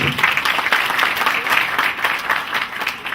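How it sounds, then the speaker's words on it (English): Loud, sustained applause from a group at a county government strategy launch, continuous clapping throughout. "Let's clap for him and his team, please."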